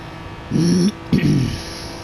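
Race car tires skid and squeal under heavy braking at the Red Bull Ring in a racing video game, two short tonal bursts about half a second apart, fairly loud against a steady engine hum.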